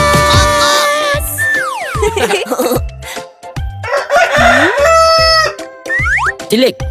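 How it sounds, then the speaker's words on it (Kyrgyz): A rooster crows repeatedly among other farmyard fowl sounds, loud and close, with rising and falling calls and some clucking mixed in. "Бул деген короз."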